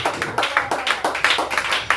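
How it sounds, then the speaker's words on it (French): A church congregation claps steadily in a fast, even rhythm, loud and close, with no talk over it, acclaiming the pastor at a French-language Wednesday sermon. "une belle acclamation au pasteur"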